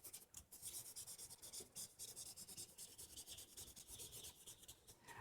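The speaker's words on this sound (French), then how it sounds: "je vais juste écrire des choses" Felt-tip markers rub and scratch across paper in quick, close strokes with short pauses between words, quiet and alone.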